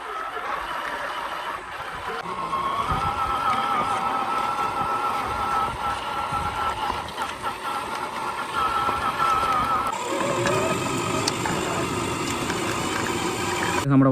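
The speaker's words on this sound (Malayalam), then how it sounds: "നമ്മുടെ വണ്ടി അവിടെ നമ്മൾ സ്റ്റാർട്ട് ചെയ്യുവാണ്." A Mahindra jeep engine comes to life and settles into a steady mid-pitched running drone with a faint whine, then shifts to a rougher, deeper tone near the end, heard close with voices speaking around it.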